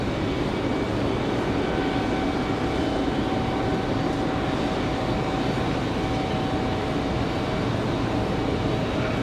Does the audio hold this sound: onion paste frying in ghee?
no